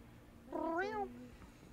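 A single drawn-out meow from a female house cat, close and fairly quiet, rising then falling in pitch in an otherwise hushed room.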